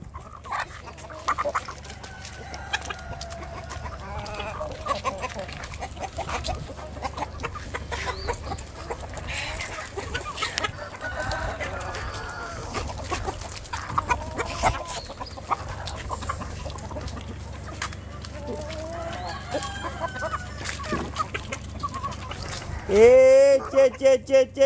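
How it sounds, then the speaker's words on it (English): Chickens on a small backyard farm cluck and chatter on and off against a steady outdoor hum, with a sharper, louder call near the end. "chicken!"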